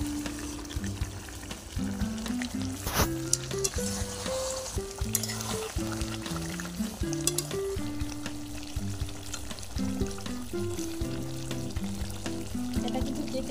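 Chicken sautés in a pan with a continuous low sizzle and occasional stirring scrapes, heard beneath soft background music with no talking.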